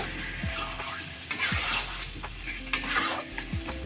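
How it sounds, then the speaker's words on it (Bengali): Marinated dhania chicken is stirred as it fries in oil in a pan, with a steady sizzle under repeated scraping strokes of a spoon and a few clinks against the pan. "আবারও ভালো করে নাড়িয়ে চাড়িয়ে সুন্দর তেল ছাড়া ভাব হবে ততক্ষণ ওয়েট করব।"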